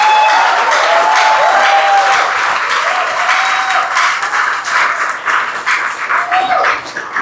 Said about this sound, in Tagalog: pumalakpak nga kayo na may tunog.